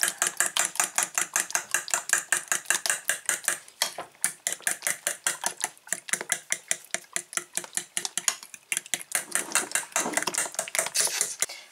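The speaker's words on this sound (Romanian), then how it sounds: "Iar cu ajutorul unei furculițe amestecăm." A fork clinks rapidly and rhythmically against a bowl while mixing muffin batter, close and steady with a brief pause partway through.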